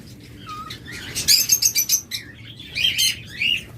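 Adult breeding lovebirds and cockatiels kept in cages chirp in bursts of sharp, high tweets, close and lively, with a brief whistle first and a faint flutter of wings, no voices present.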